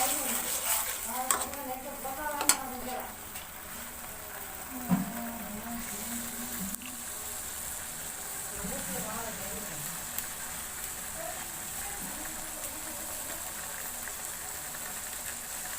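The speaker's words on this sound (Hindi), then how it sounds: "हिलाते रहें इसको और अच्छी तरह से पका दें पहले।" Garlic chutney cooks in a pan while being stirred, giving a soft ongoing sizzle with occasional scraping clinks near the start, all under a quiet steady background.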